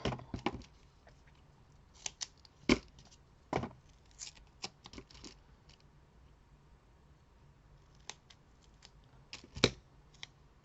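Scissors snipping through double-sided tape during paper crafting for a flipbook: a few sharp, separate cuts spread across a quiet background, near and fairly soft, with small rustles of handling between them.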